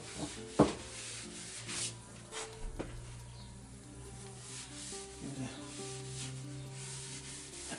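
Soft cloth rubbing over a restored vintage garden hoe being polished with wax, a quiet steady scrubbing with a few light knocks, faint and close.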